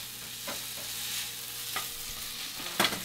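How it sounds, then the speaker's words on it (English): Kimchi fried rice being stirred and given a last fry in a pan with the heat off, a soft steady sizzle broken by a few scraping strokes of the spatula. "have a last round of frying"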